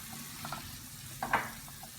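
Vegetables sizzling softly in a pan for Sicilian aubergine caponata as capers are added, a faint steady fry with a few small scattered crackles and one brief sharper pop near the middle.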